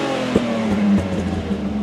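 A BMW car engine idles steadily with a low tonal hum and a few small bumps in the sound, heard up close with no talking.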